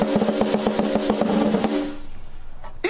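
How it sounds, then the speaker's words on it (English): A snare drum is struck in a quick, steady run of sharp, loud hits with a ringing tone for about two seconds, then stops, leaving faint room noise and a final short burst. "So, using that snare drum there"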